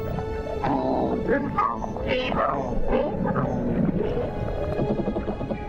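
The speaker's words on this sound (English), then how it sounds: "A dispute amongst the members of the cichlid family. Who is stronger, and especially who is louder?" Cichlid fish in an underwater dispute, loud grunting and rumbling calls overlapping in a continuous, close, rough chorus throughout.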